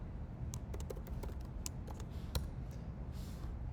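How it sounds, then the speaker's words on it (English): A command is typed on a computer keyboard at a terminal: a quick run of light, close key clicks in an irregular rhythm, with short pauses between bursts and no talking. "so we can type the command ETH block number."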